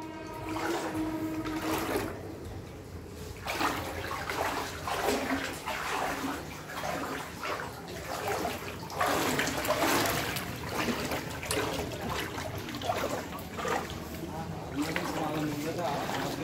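Flood water sloshing and splashing through a half-submerged house with floating gas cylinders, a continuous close churning of water under people talking throughout.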